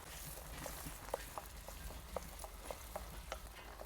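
Onions sauté in a pan, a faint steady sizzle broken by irregular light taps and scrapes of stirring, close and quiet with no talking.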